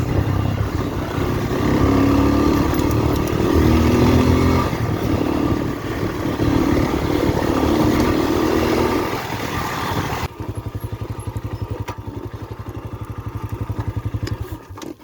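A BigBoy TSR 250 motorcycle engine revs loudly up close, rising and holding through the first ten seconds, then drops to a lower, lumpier idle with distinct pulsing beats.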